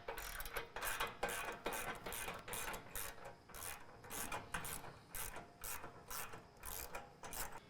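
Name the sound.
ratchet removing bolts from Ford truck fuel tank skid plate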